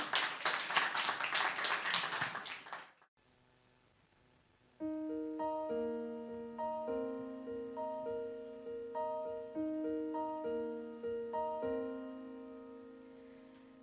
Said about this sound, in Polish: Brawa Milek Dziane